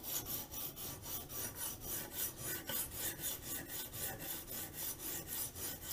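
A knife of moderately hard steel is sharpened on a Poltava diamond stone, giving steady, even rasping strokes in a regular back-and-forth rhythm, close and fairly loud with no talking.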